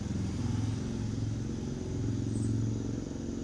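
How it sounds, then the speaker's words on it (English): A motorcycle engine drones at a distance as a low, steady rumble that holds level throughout, with no voices. "I don't know if you can hear the motorcycle, but it just went by now."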